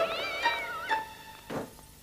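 Several kittens meow in a cartoon scene, a few high, wavering mewls one after another, the first drawn out and the later ones shorter and quieter, close by with no talk over them.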